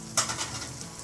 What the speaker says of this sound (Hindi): अब इसमें हम हरी मिर्च कटी भी डाल देंगे। अब इसको आधा मिनट तक हमने इसको फ्राई करेंगे।